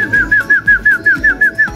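Racing pigeons in a loft give a steady run of about ten rhythmic coos, loud and close, each a short rounded call repeated at an even pace, with no voices.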